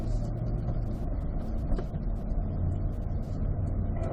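A car on a serpentine driving course drones steadily and close by, its engine note building slightly as gas is added mid-corner, with a faint voice underneath.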